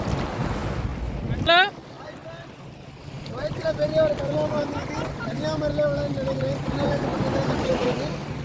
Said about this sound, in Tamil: இன்றைக்கி அலை அதிகமாக இருக்குது